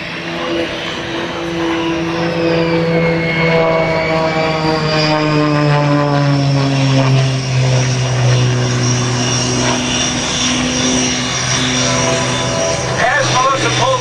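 A propeller aerobatic airplane roars continuously during an air show performance by Melissa Pemberton in Cleveland, its engine pitch rising and falling as it climbs and maneuvers, loud and steady while a commentator talks over it.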